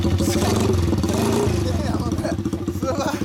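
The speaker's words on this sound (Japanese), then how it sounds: "OK、はい、エンジン聞かせてもらえますか。" A Honda Grom MSX125 custom with a swapped 106cc engine, G-Craft frame and Pentagon muffler runs close by with a rapid, throbbing exhaust pulse that stays loud and steady throughout.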